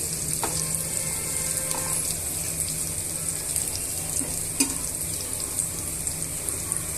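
Onions and spices fry in a pan for tomato rice, a continuous close sizzle with occasional light clicks and stirring taps.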